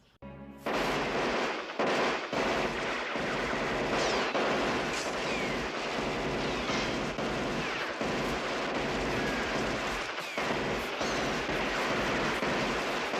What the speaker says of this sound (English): They're both fucking zombies, right? and they're just shooting at each other.